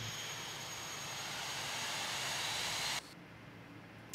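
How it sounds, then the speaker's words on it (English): Airliner jet engine running steadily just after start-up, a loud continuous roar with a high whine; the broadband rush drops abruptly near the end to a quieter hum. "That's engine 2 started."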